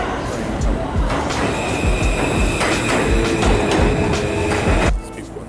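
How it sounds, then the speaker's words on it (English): A New York City MTA subway train pulls into the station with loud, steady rumbling and clattering wheels under a busy platform, then cuts off sharply near the end; people talk nearby. "waiting for that train to come"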